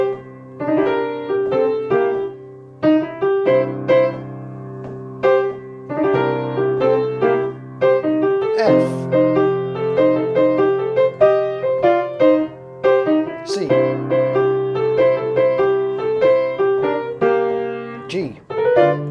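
Boogie-style piano in a Texas boogie vein, with a bouncy rhythmic pattern of fifths moving through chord changes, played steadily and briskly at moderate loudness with full low-register chords.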